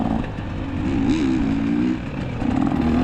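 Race motorcycle engine on a slick dirt track during a six-hour team endurance race, a loud, close buzzing drone that wavers in pitch as the throttle opens and eases off.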